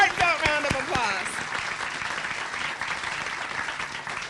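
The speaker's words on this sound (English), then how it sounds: "A heartfelt round of applause." Applause from an outdoor crowd at a War of 1812 monument ceremony, starting under a speaker's voice and continuing as steady, fairly distant clapping to the end.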